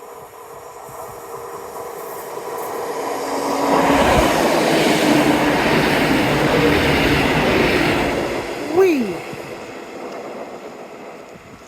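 A train runs along the seawall railway at Teignmouth, its rumble and wheel clatter swelling to a broad roar over several seconds before fading, ending with a short sliding squeal.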